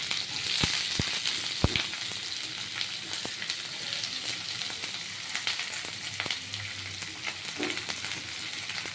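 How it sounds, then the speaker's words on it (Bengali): Steady frying hiss of onions and carrots in a hot pan for chowmein, with occasional sharp clinks and scrapes of a utensil stirring. "পেঁয়াজ আর গাজর একসাথে ভাজা ভাজা হবে"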